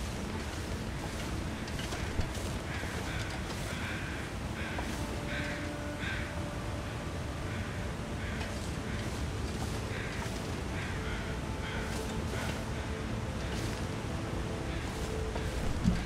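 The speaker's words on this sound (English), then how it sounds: "So I'm hearing some birds." In The Long Dark, a series of crow caws repeats at a steady, spaced rhythm across a snowy outdoor scene. The calls sound moderately distant over a constant bed of low wind noise.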